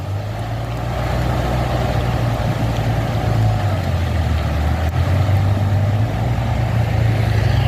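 Loud, steady diesel engine drone from a FAW truck being hauled uphill by a trailer truck, close and continuous with slight shifts in pitch.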